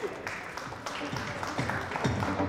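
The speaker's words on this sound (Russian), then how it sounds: "Ваши аплодисменты!" Audience applause for a gymnastics show, steady and moderate. Voices are mixed in with it, and there are some louder hand claps toward the end.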